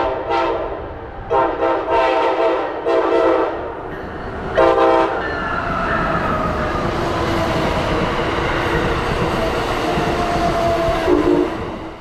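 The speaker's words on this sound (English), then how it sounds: "bringing Amtrak Vermonter Train 57 past the East Norwalk train station with a terrific horn show" Amtrak Vermonter passenger train passing East Norwalk station on a sunny summer day, loud and close: several short horn blasts open, then the rolling roar of cars and wheels carries on with another horn note near the end.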